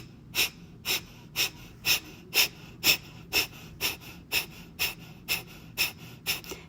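Quick, forceful nasal exhales during a yoga breathing exercise, about fourteen evenly spaced puffs in a steady rhythm, close and clear with no talking.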